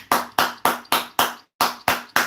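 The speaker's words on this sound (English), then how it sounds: "Let's clap it up." Single person clapping close by in a slow, even rhythm of sharp, loud claps, with a brief pause before the clapping resumes.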